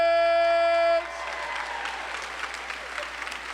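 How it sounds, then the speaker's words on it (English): Audience applause at a city state-of-the-address event honoring a fire chief, a dense steady wash of many hands clapping that swells up after a sustained musical tone fades in the first second, continuing moderately loud to the end. "Round of applause for Chief Gary Credence."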